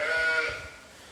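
Sheep bleating in a lambing shed on a Fife farm, a loud drawn-out bleat that fades toward the end, with other animal noise faintly behind.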